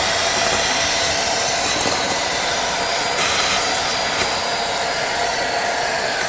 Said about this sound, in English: we're gonna have a little bit of fun with the vacuum. We're gonna use this funky attachment here with the 90-degree bend